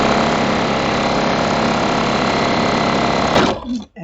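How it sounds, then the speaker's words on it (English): A sewing machine stitches quilt fabric for a disappearing nine patch block, running as a steady, close, continuous whir before stopping abruptly near the end. "I know I can continue sewing."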